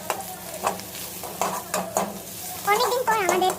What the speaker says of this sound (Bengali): বাদামি রং করে নেবো পেঁয়াজগুলো